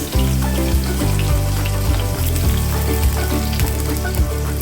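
Chopped onion hitting a hot pan with ginger and garlic for Assamese soya chili, a loud steady sizzle and frying crackle running throughout with no talk.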